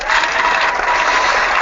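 A round of applause sound effect played on a gaming livestream: dense, steady clapping that fills the whole moment at full loudness, with no talking over it.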